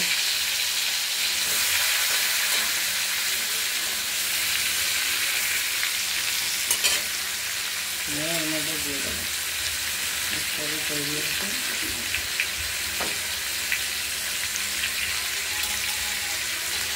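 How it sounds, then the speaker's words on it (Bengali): Fish head frying in hot oil in a wok, a steady close hiss and sizzle running throughout, with a few brief clinks and faint voices in the background. "আরেকটা কড়াইতে আমরা তেল গরম করে নিচ্ছি। এতে মাছের মুড়োটা ভেজে নেব।"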